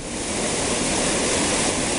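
Water rushes and splashes continuously over rocks, a dense even roar at moderate volume with no other sounds.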